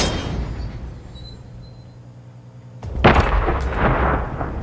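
A single loud gunshot rings out in the video game Hitman 2, a sharp crack followed by a booming echoing tail, preceded by quiet ambient hum.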